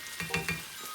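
Cooked rice drops into a lightly oiled frying pan, giving a close steady sizzle with three quick bursts of crackle as it lands and is stirred.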